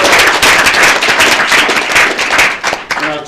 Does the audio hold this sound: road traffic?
no